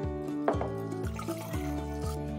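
Pomegranate margarita of tequila, lime juice, pomegranate juice, triple sec and simple syrup over ice is poured into a glass, a short trickling, dripping pour with a faint clink or two, close and clear.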